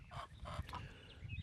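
A backyard chicken clucks and honks softly in a short burst of a few rapid, nasal calls, faint and close by, with no talking.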